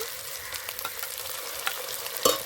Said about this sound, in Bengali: রসুন বাটা আদা রসুন দিয়ে কিছুক্ষণ নেড়ে নেব